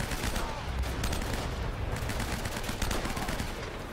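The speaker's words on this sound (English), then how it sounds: "we'll be immediately shot at by multiple enemies" Dense gunfire from multiple enemy soldiers in Uncharted: Drake's Fortune, a continuous barrage of overlapping shots and bursts with a rumbling low end, loud and unbroken throughout.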